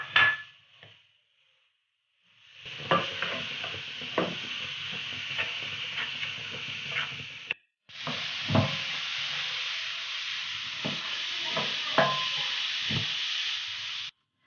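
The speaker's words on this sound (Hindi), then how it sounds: "घी गरम हो चुका है। अब हम इसमें गाजर शामिल कर देंगे।" Grated carrots sizzle and hiss in hot ghee for gajar halwa, a steady close frying wash broken by a brief pause, with scraping knocks of a spoon stirring through the pan.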